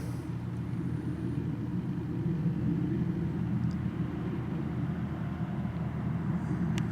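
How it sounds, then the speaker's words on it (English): A propeller plane towing a glider aloft drones as a steady low rumble heard from outdoors, constant and moderately distant, with faint scattered background noises. "There's a glider being taken up into the air by that plane ahead of it."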